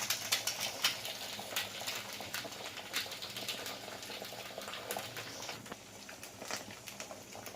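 Salted egg poured into a hot pan, frying with a dense, crackly sizzle that holds steady and close throughout, with faint tapping and clinking now and then.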